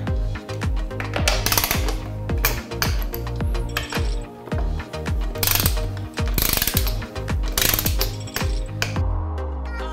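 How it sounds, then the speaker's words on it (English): A 6 mm Allen wrench tightens the motor bolts on an Ibis Oso bike with a Bosch motor, giving rapid ratcheting clicks in uneven bursts, close and crisp with brief pauses between turns. "So we'll tighten the motor bolts. It's a 6 millimeter Allen wrench."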